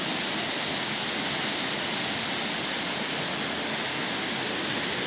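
Waterfall at Rairangpur, a loud, constant broadband roar of falling water that fills the whole clip with no breaks or voices.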